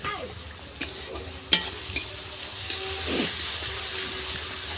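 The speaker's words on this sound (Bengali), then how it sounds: "অল্প আছে আস্তে আস্তে ভেজে নেবো" Onions frying slowly over low heat with a pinch of salt, a soft steady sizzle with a few sharp clicks and clinks of a spoon early on, close by.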